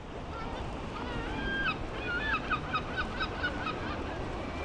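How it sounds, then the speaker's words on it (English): Several seagulls call out in short honking cries at the beach in Blackpool, repeated in bursts over a steady rushing background like wind or surf. "the seagulls were getting so close and they were doing dive bombs really close to my head"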